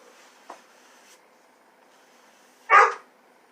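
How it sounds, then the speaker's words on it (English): A poodle gives one short, loud bark fussing for attention, close by, after a faint earlier yip and quiet room tone. "When he wants attention, he starts getting fussy with me. That's my poodle."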